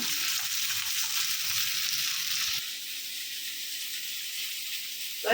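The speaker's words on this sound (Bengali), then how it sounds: "এখানে পেঁয়াজ মরিচ ভেন্ডি সব একসাথে এখন এই যে তেলে দিয়ে দিব দিয়ে দিলাম" Onion, chilli and okra frying together in hot oil give a steady, even sizzling hiss that softens slightly partway through, with a brief clatter at the very end.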